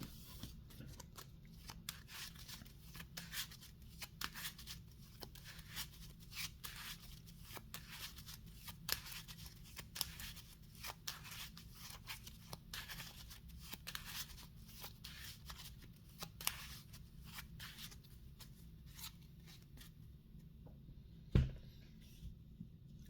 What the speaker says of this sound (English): we shuffle the set aside cards back into our deck.